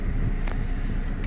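A 2015 Nissan Sunny XL CVT automatic petrol sedan with 43,000 km idles with its engine running, a steady low rumble heard from inside the car with no talk.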